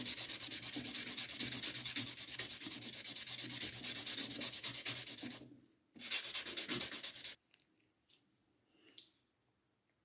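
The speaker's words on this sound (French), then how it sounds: "je vais passer un peu de bloc polissoir afin de bien polir l'ongle" A polishing buffer block rubs back and forth over an acrylic nail in rapid, steady strokes, a close, dense scratchy buffing that runs for several seconds, stops, resumes briefly, then gives way to a few faint handling taps.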